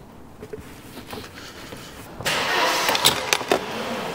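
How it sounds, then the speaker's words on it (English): A Mercedes 190E with a history of non-starting and rough running sits quiet at first, then its engine catches about halfway through and runs steadily at idle, loud and near, with a couple of sharp knocks on top. "I think we're just going to let it idle now, get it up to temperature, then we'll give it another rev, see if it cuts out."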